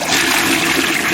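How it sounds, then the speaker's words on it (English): A toilet flushes nearby, a loud steady rush of water filling the whole short moment with no voices over it. "You hear someone flush."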